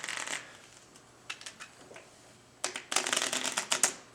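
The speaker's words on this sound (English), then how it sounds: "Again, a real shuffle." Playing cards are shuffled: a light riffle, a few scattered flicks, then a longer, louder rapid riffle of cards buzzing together near the listener.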